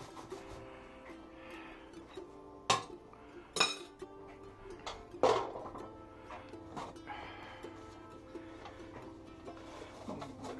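A metal baking pan being handled in a home kitchen while making rosemary bread, with a few sharp clinks and clanks of dishes over a quiet hum, faint talk in the background.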